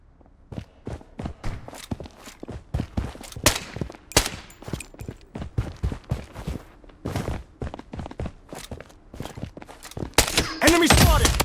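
Gunfire and footsteps in the shooter video game Blood Strike, with repeated sharp shots and bursts over about eleven seconds, growing louder and denser toward the end, mixed with in-game sounds.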